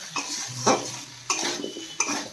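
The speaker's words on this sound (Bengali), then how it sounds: "ভালো করে কষিয়ে নিচ্ছি" Spices, onion, ginger and garlic sautéed for a broccoli potato curry, with three or four spatula scrapes and clanks on the pan over a soft sizzle, no voices.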